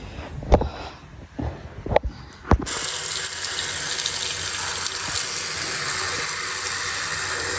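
Tap water gushes steadily into a sink as something is rinsed. A few close clicks and knocks of handling come first, then a loud, continuous flow.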